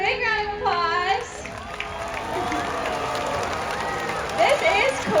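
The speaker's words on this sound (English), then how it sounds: "Everybody give her a big round of applause." A large audience at an orca show at SeaWorld San Diego claps and cheers in a broad, sustained roar that fills the stadium, with an amplified voice talking over it at the start and end.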